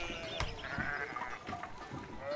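Sheep bleat in the video game Pentiment, several overlapping animal calls set against a steady, quiet pastoral ambience.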